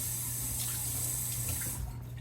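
Water runs steadily from a tap to wet a splint, a close, continuous rushing splash that thins and drops away near the end.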